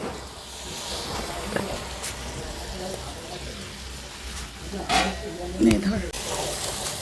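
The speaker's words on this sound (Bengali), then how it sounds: "এবার দিয়ে দেব সামান্য একটু জল কাটাগুলো সেদ্ধ হওয়ার জন্য" A little water goes into a pan of fried bhetki fish head and bones, which then simmer with a soft steady sizzle, occasional stirring knocks and a louder hiss near the end.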